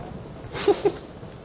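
Rain falls in a Witcher 3 game scene as a faint, steady hiss, with a brief pair of louder swells in the middle.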